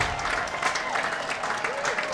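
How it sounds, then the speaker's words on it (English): A crowd at a high school lacrosse sectional championship at Medfield cheers and applauds a win, with dense clapping and shouting close by under a talking announcer. "And the crowd goes wild."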